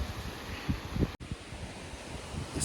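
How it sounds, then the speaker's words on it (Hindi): Wind gusting outdoors near a river, rumbling and buffeting the microphone in uneven bursts, faint and steady with a brief dropout partway through. "मस्त हवा चल रही है भाई। यहाँ पे हल्की हल्की आवाज़ आ रही है नदी की भाई।"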